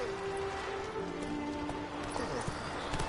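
Roach, the horse in The Witcher 3 on PS4, trots with steady rhythmic hoof clip-clops, moderately close, under a continuous bed of ambient game sound and music.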